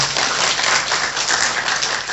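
A church congregation at an Ascension Day worship service breaks into sustained applause, a dense, steady wash of many hands clapping that fills the whole stretch without pause or voices.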